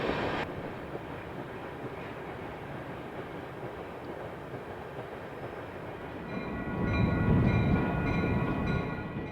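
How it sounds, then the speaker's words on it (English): A freight transfer train rumbles past behind an RP20BD genset and two rebuilt GP38N locomotives, a steady loud roll of wheels and cars that swells near the end with heavier low rumble and ringing tones. "72R transfer returning to Yard Center behind an RP20 BD genset and two rebuilt GP38Ns"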